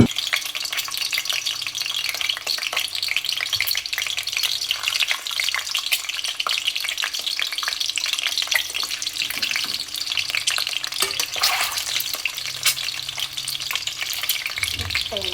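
Eggs fry in a pan for egg biryani, giving a steady, close hiss and crackle of hot oil with occasional stirring scrapes. No one speaks.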